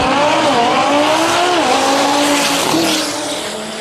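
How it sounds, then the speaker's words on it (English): An Audi TTRS and a Corvette launch side by side at a drag race, engines roaring loud and near with squealing tires and rising revs, the noise fading slightly as the cars pull away. "The Audi off the mark first, starting to put some distance between them and the Corvette"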